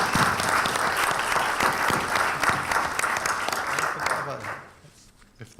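Audience applause at a literature festival event in Berlin, dense steady clapping from a crowd that carries for several seconds before thinning out and fading near the end.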